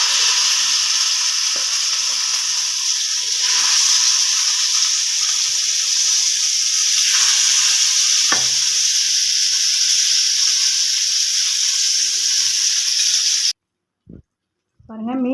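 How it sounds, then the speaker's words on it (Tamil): Fish sizzles loudly in hot oil in a pan, a dense, continuous hiss and crackle close up with occasional pops, ending abruptly in near silence with a faint voice. "நான் இதில் தாங்க வறுக்க போகிறேன் மீனை."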